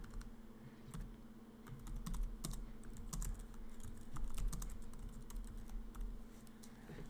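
Typing on a computer keyboard while entering text in Fusion 360, a quiet, steady patter of rapid key clicks with brief pauses, close and alone, over a faint low hum.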